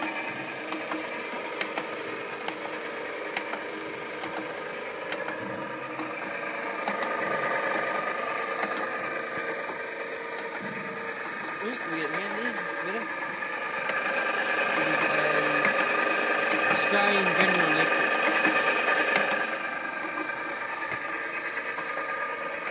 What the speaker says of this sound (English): It's a 2-inch ASA diaphragm pump by AS McGough & Co.